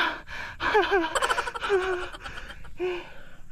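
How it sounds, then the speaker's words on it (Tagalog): A person is out of breath after climbing to a view deck overlooking Mayon in Albay, letting out heavy, voiced, gasping breaths close by, some almost laugh-like. "Hinihingal tayo."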